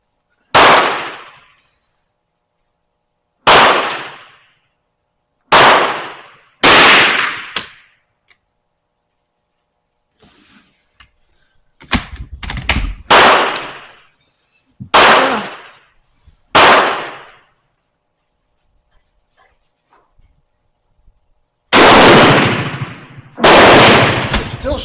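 Romanian Mauser rifle fired at a target outdoors, about nine loud single shots spaced several seconds apart, each cracking sharply and ringing off into a fading echo, with faint handling sounds in the gaps.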